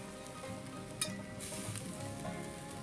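Burgers and onions sizzling low and slow in a pan, a steady crackling fry with a brief clink of a utensil partway through and no talking.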